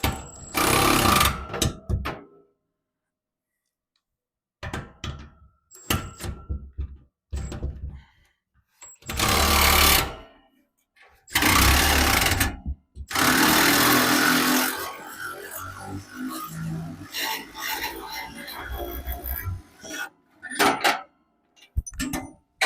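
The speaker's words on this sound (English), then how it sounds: "I'm going to go ahead and use my Milwaukee ratchet, and I'm going to run that lag bolt right out of the ceiling there" Milwaukee cordless ratchet backing a lag bolt out of a ceiling to drop an electric space heater unit, loud close bursts of buzzing ratchet drive starting and stopping, with clunks and scraping between runs.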